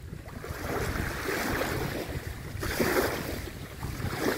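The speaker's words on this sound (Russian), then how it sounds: "Тут ветер еще сильней." Strong wind buffets the microphone beside a small pond, with choppy little waves lapping and splashing in a continuous, loud, rushing wash that swells in gusts.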